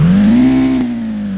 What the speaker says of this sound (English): So we're gonna be see how the rev is gonna be high.